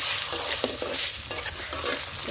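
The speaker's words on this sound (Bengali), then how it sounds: "দেখো ডিমগুলো ভাজা করে নিই।" Boiled eggs seasoned with salt and turmeric fry in hot oil, a steady close sizzle broken by repeated scraping stirs of a spatula in the pan, loud and without any talk.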